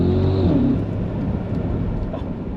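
Audi SQ7 engine snapping through a loud downshift, a brief rising blip at the start settling into a steady, close, full-bodied rumble with no talking over it.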